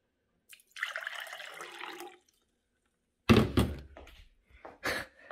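Tap water pours into a countertop water filter as a close, rushing stream for just over a second, followed by a few dull knocks and bumps as the filter is handled.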